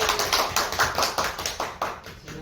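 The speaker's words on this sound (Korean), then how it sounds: "큰 박수를 맞으시기 바랍니다." Applause from an audience welcoming a university professor to the lecture stage, many hands clapping in a dense, steady patter that carries on for a couple of seconds.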